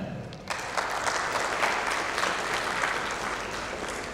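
A dense, sustained burst of applause breaks out from an audience at a customer experience summit panel after a brief quiet moment and continues steadily throughout.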